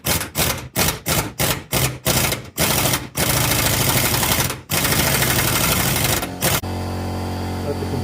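Air impact tool breaking 15mm bolts free on a 1983 Camaro Z28 during a steering brace install, loud close bursts of hammering rattle, several short ones then longer sustained runs, followed by a compressor hum.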